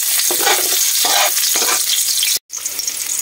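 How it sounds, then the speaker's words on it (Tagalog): Garlic sautéing in a pan for a Filipino pork and beans dish, a steady close sizzle with scraping stir strokes and a brief pause near the end before the frying resumes. "Gisa muna natin sa bawang."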